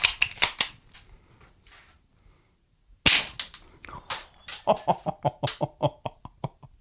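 A BB gun fires a string of sharp snapping shots into 3D-printed Warhammer 40k Darktide Veteran Guard cosplay armour, first a few quick cracks and then, after a pause, a rapid rhythmic burst of loud pops with hard plastic impacts.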